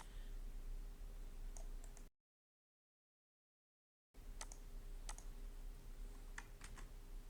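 Light typing on a computer keyboard, scattered quiet key taps over low background hum, broken by a two-second dropout of silence before the clicking resumes.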